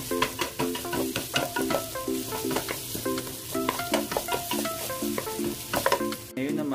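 Onions are sautéed in a pan for beef pinapaitan, a steady sizzle and frying crackle under repeated stirring scrapes of a utensil against the pan, close up with no talking.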